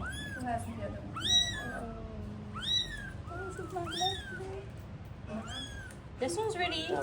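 Three small kittens in Melaka, Malaysia, mew again and again in high, thin cries, close by, in short bursts with brief pauses between, one rising into a louder run near the end.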